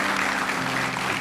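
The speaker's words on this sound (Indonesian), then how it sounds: "kita kasih tepuk tangan dulu kalau gitu buat mereka semuanya" A studio audience at an Indonesian television talk show applauds in a dense, steady wash of clapping that is moderately loud and continuous through the short moment.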